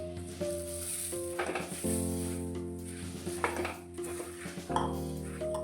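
Puffed rice tipped into a hot pan of spiced seasoning for churumuri, with the gas off, and stirred: a loud, continuous dry rustle and crackle, broken by metallic scrapes and clinks of a spoon against the pan.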